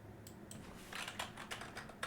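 Quiet typing on a computer keyboard, a run of light, quick key clicks with an uneven rhythm, close but faint.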